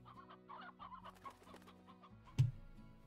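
Chickens in the Slime Rancher game cluck in short bursts over a steady tonal game background, ending in one louder squawk near the end. Faint and close.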